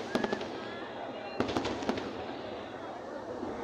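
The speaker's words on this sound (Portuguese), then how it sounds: "São 15 minutos de queima de fogos" A fireworks display over Copacabana sends sharp crackling bursts in quick clusters against a steady background rumble of crowd and distant blasts, with people talking nearby.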